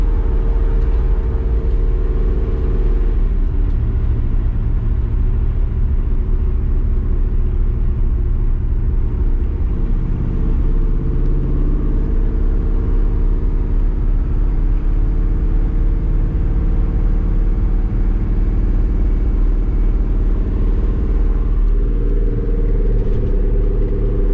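A 1959 Chevrolet engine holds a steady, loud, low droning rumble at around 3,000 RPM while cruising, the tone shifting slightly a few times over nearly half a minute, with no voices.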